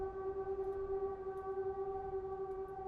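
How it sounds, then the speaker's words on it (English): A video game air raid siren wails as a steady, sustained tone with layered harmonics, moderately loud and alone, holding evenly throughout. "Now there's an air raid siren."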